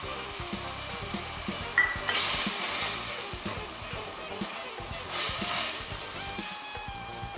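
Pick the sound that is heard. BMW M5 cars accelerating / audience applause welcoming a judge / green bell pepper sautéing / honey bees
green bell pepper sautéing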